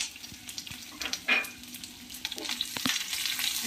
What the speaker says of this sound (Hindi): अच्छी तरह हमें इसे सोटे कर लेना है।